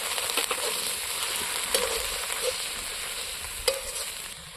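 Onion paste with spices fries in a pan, giving a steady, close sizzle marked by a few brief stirring scrapes.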